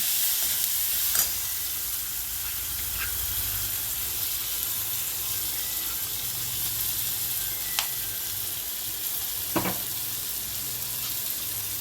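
Coconut, green chili and ginger paste is stirred into radish masala frying in a pan. A steady close sizzle runs throughout, broken by a few sharp spoon scrapes and clinks, with no talking.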